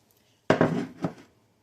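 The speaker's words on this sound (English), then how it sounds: "dump your 4 cups of cold water in your blender" Four cups of cold water dumped into a blender jar in one quick splashing pour, close and brief, with a second smaller slosh at the end.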